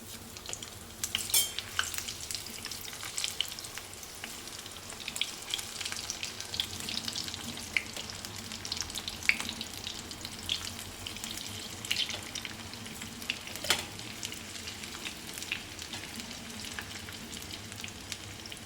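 Muthiya dumplings fry in hot oil with a steady, fine crackling sizzle, close and continuous, with occasional clinks of a utensil against the pan and no talking.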